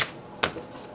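A deck of tarot cards is shuffled by hand, giving a short, papery riffle burst midway through against a quiet background hiss.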